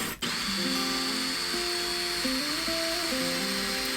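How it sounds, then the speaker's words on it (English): A power drill bores into a porcelain hearth on a narrowboat while a diesel stove is being fitted. The motor whines steadily and the pitch shifts up and down as the bit works through the hard surface. "Doesn't look that easy to drill through porcelain, does it?"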